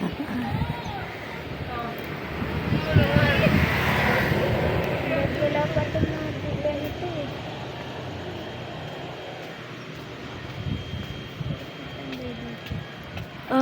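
Low rumbling wind buffets the microphone throughout, with people talking over the gusty roar.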